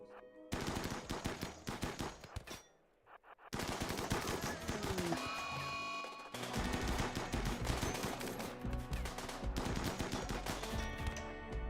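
Assault rifle fire in the RimWorld video game, loud rapid bursts of automatic gunfire that repeat several times, separated by a brief gap, with no talking.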